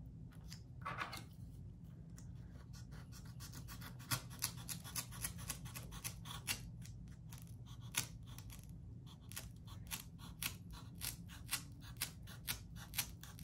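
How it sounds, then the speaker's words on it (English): Scissors trim excess cross stitch fabric in a quiet room, a long series of crisp, close snips coming in quick rhythmic runs with short pauses between. "I'm gonna trim from the side I already cut."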